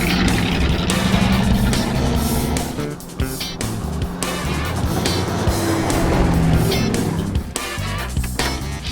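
A 1964 Ford Galaxie with a four-speed and big-block V8, rescued from a junkyard, roars loudly and steadily through a test drive, engine noise filling the whole stretch with gear changes.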